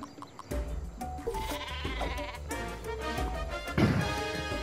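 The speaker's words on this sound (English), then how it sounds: "Sheep." A sheep bleats in the Worms Armageddon video game, a loud wavering cry rising out of busy game music and effects.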